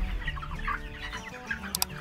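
Several chickens cluck softly at close range on a small organic egg farm in El Salvador, irregular low calls overlapping with faint background noise.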